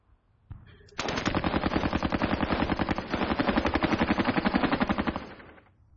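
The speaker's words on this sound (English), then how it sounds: "Everyone fire at them." Gunfire in the John Tiller wargame Advance of the Reich, Bug River Crossing scenario: a loud, sustained rapid machine-gun burst of evenly spaced shots lasting several seconds before fading out.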